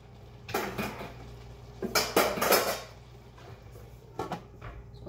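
A lid goes onto a pot of beef liver with potato and onion: a few metallic clanks and rattles of cookware in separate bursts, close by, against a quiet kitchen hum.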